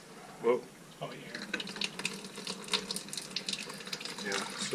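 Water runs from a faucet on newly roughed-in plumbing in a small camper trailer, sputtering and spitting irregularly as air in the lines breaks up the flow, with people talking over it.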